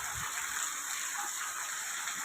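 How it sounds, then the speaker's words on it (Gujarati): Steady rain hisses continuously, a dense even wash of drops with no voices, unbroken from start to finish. "એકદમ શાંતિવાળો વરસાદ છે"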